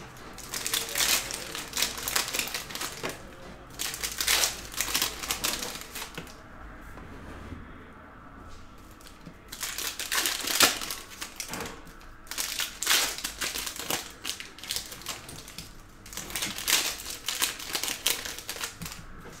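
Panini Prizm card packs being torn open, foil wrappers crinkling and crackling in repeated bursts with short pauses between, close and fairly loud, no talking.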